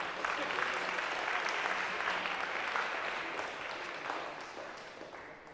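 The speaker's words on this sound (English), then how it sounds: "round of applause, sure." A lecture hall audience applauds steadily, with dense, sustained clapping from many people at moderate distance that slowly tapers toward the end.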